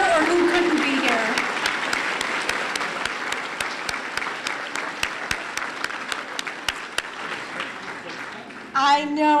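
An audience at a service salute event applauds volunteers, steady dense clapping filling the room for several seconds before a voice starts speaking at the end.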